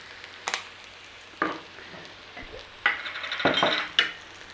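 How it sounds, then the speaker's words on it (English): Spices with oregano, pepper and salt are stirred into hot oil in a single pot for a sausage and bean stew. A few distinct scrapes and clanks of a spoon sound over a soft, close sizzle. "Give that a quick stir through. That'll bloom those spices in there with that oil and that."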